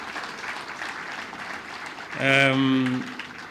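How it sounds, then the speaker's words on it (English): Brief burst of audience applause at a presidential speech on arts and sports, rising quickly for under a second over a background of crowd murmur and a sustained musical tone. "let's put a round of applause to Ababu Namwamba, my CS for Sports"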